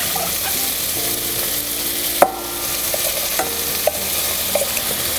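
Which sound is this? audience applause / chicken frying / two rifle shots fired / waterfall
chicken frying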